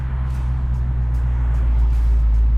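A 1969 Camaro with an automatic transmission and Flowmaster exhaust idles with a loud, steady, deep rumble close by, holding an even drone throughout without any revving or voices.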